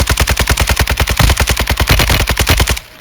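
Rapid automatic gunfire from a Roblox Jailbreak shootout: a loud, steady stream of about thirty evenly spaced shots that cuts off abruptly near the end, with no voices over it.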